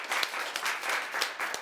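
Applause from a class audience praising a design student, a short burst of clapping with a few sharp individual claps standing out, moderately quiet and slightly uneven in rhythm.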